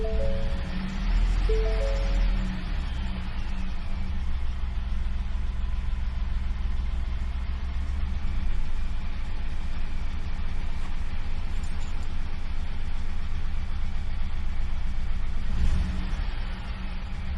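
A 2019 Ford F-150 with the 3.5L engine, running rough with misfire faults, starts up and settles into a steady, uneven idle, a close continuous low rumble with a brief whir at the start.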